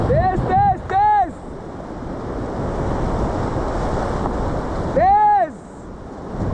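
Rushing river rapids roar steadily throughout a rafting run on an Uttarakhand river, loud and close with wind buffeting the microphone, while excited voices shout in short bursts over the water.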